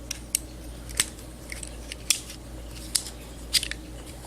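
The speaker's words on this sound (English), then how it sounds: "These are the scissors on a Leatherman Wave" Scissors on a Leatherman Wave multi-tool snip repeatedly, about seven sharp, crisp metallic clicks spaced unevenly over a quiet background, close and fairly soft.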